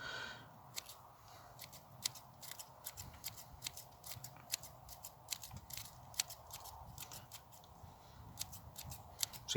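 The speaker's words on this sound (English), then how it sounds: "Just cut away those roots from the bottom." Close, quiet snips of scissors cutting away the roots from the bottom of an overwintering container-grown pepper plant, a quick irregular series of crisp clicks over soft rustling.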